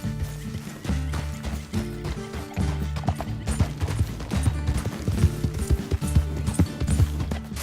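Horse hooves in the video game Red Dead Redemption II clop in a steady, driving gallop, close and loud, with a neigh early on and low rumbling music beneath.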